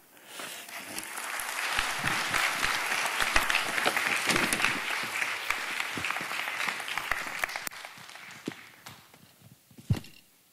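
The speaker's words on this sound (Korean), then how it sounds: "나오실 때 우리 뜨겁게 박수 한번 하십시다" Warm, sustained applause from a church congregation at a Friday night worship service greets a pastor coming up to preach, steady for about eight seconds before thinning out, with a few louder claps near the end.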